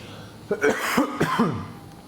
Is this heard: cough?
yes